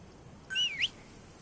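A character in the video game Metal Gear Solid Phantom Pain whistles a short rising-and-falling call, one brief bright note lasting about half a second, sounding on its own against a faint background.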